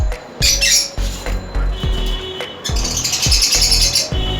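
A yellow opaline lovebird in a farm colony gives repeated sharp, loud squawks while being caught by hand, with bursts of shrill calls over low handling thumps and rustles close by.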